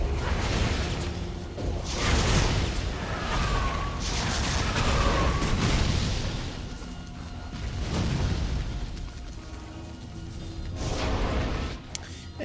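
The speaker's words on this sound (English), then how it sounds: "This would appear to be fire." Fire attacks in the action RPG Torchlight 2: repeated whooshing bursts and fiery booms swelling and fading in waves, loud and continuous with some mechanical clatter.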